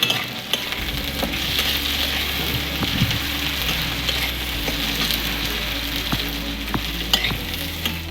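Vegetables and urad dal sizzle in a hot pan for sambar, a constant crackling fry with intermittent stirring scrapes and utensil taps close by.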